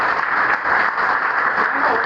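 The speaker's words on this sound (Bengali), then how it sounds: "জয়েন করবার জন্য আমি আপনাদের জোরদার হাততালি চেয়ে নেব" Audience applause at a program for new RCM distributors: steady, dense clapping from a crowd fills the room at an even level throughout, with no pauses.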